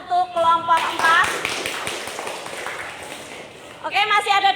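Classroom applause for a presenting student group, a short burst of clapping from several people between stretches of nearby speech.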